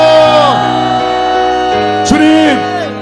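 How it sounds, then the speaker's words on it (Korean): A church congregation at a Friday service shouts "Lord" loudly in unison to open a prayer aloud, a dense wall of many voices that swells and then trails into overlapping prayer. "주여 한번 크게 외치시고 통성으로 기도합니다."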